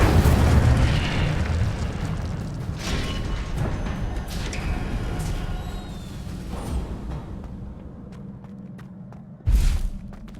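An Incendio fire spell cast in Hogwarts Legacy, a whooshing, rumbling burst of flame with soft thuds, ending in a short, louder boom near the close.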